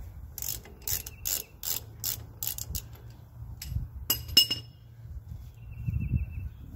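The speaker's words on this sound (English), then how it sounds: "A 7/8 inch wrench. Fits the bolt on the top." A 7/8 inch wrench working the top bolt of the oil filter assembly on a Ford 8N tractor, with bursts of quick metallic ratcheting clicks, then scattered clinks and pauses, close and fairly quiet over a low background hum.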